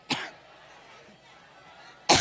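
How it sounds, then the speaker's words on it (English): A woman at a public speaking event coughs in two sharp, close bursts, one at the start and one near the end, separated by a quiet stretch with faint background murmur. "she literally coughed up her lung"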